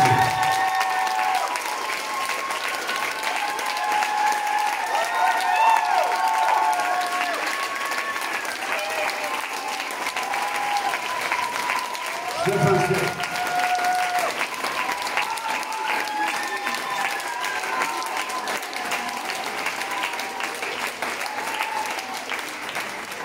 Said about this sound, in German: Und ich bitte euch mal einen riesen Applaus.